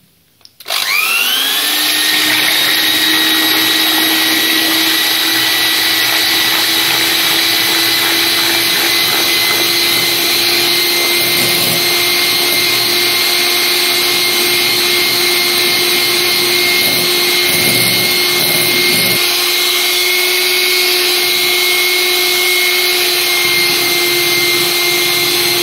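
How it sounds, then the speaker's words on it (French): An electric hand mixer runs at full speed beating egg whites in a bowl, a steady loud whirring drone that starts abruptly and holds throughout with only slight changes in pitch. "Mettez votre batteur à fond."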